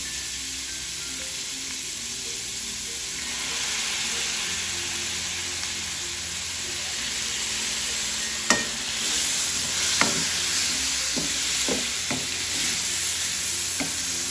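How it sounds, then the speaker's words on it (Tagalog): Soy sauce hits carrots and chayote frying in a pan for pansit chami, a steady loud sizzle with a few sharp crackles and stirring scrapes, no talking. "lagyan po natin mga kalilag ng toyo."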